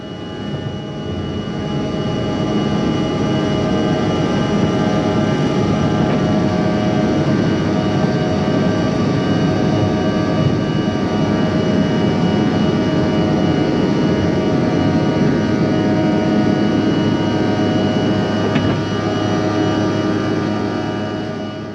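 A United Express passenger plane's engines give a loud, steady roar and whine throughout, heard on a flight out of Decatur Airport in Illinois toward Chicago, unbroken and close with no talking.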